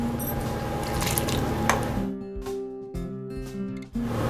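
Yeast mixture is poured into a bowl of flour for tawa pizza dough, giving a wet, squishy pour followed by a few soft drips and splats against a steady background hum.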